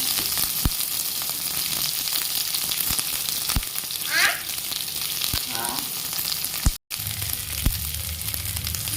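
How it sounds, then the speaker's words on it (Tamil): Big onions fry in a pan with a close, continuous sizzle, punctuated by a few soft clicks and scrapes and one brief dropout near the end. "நல்லா பெரிய வெங்காயம் போட்டு வணக்கி வச்சுங்க"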